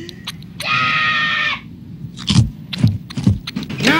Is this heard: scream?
yes